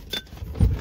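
Car keys jangling up close in a short metallic rattle, followed by a low rumble as a car sits in a parking spot.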